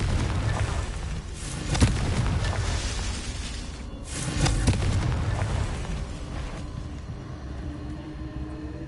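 A Confringo fire spell blast in Hogwarts Legacy, heard as a couple of loud booming explosions with crackling bursts over a rumbling game soundscape.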